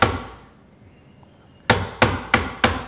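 A hammer strikes a Marples splitproof chisel four times in quick, even succession, each blow a sharp, close, loud crack following a short fading knock and a quiet pause.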